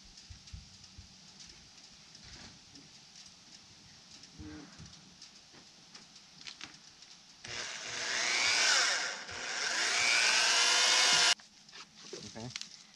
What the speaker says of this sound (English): we're going to drill a hole straight down through here and then into that one